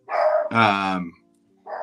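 A dog barks a few times close by, sharp harmonic yelps with short pauses between them.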